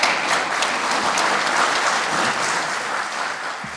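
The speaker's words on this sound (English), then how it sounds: "let's give our authors a round of applause and thanks" Warm, steady applause from an audience thanking the authors at a history talk, a thick continuous roar of many clapping hands, loud and even throughout before easing slightly at the end.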